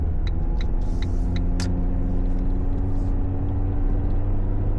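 An old Ford Focus with 240k miles idles while warming up, a steady low rumbling hum with faint rattle, and a few brief sharp clicks or taps near the start.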